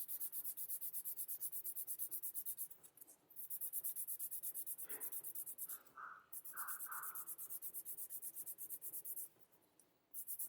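180 grit sandpaper is worked by hand over body putty on a cast model print, giving close, rapid back-and-forth rasping strokes in a steady rhythm. The strokes break off in two short pauses, and a few faint tonal squeaks come through in the middle.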